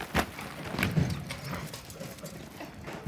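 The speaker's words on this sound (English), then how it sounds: "here's a sorrel quarter horse gelding" Hooves of a sorrel quarter horse gelding clip-clop at an irregular pace on a hard surface at close range, with faint background noise between the steps.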